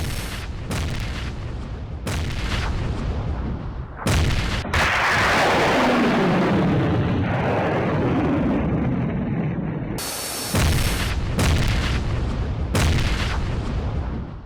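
Repeated explosions from a Russian airstrike on a Ukrainian weapons depot in Kherson, heavy booming blasts followed by a long roaring rumble and hiss, loud and continuous with several sharp bursts.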